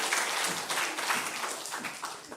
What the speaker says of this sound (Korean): 크게 박수로 한번 격려합시다